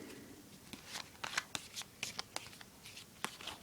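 Teacup oracle cards being shuffled in the hands, a quick series of soft, crisp slaps and riffles, close and fairly quiet.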